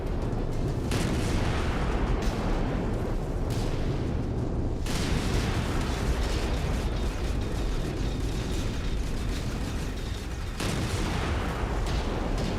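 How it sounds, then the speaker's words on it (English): Sustained machine gun fire rattles through a Merctech mech battle in a video game, a dense, continuous roar of rapid rounds and rumbling impacts with a few sharper bursts layered over it. "What keeps shooting me with machine guns?"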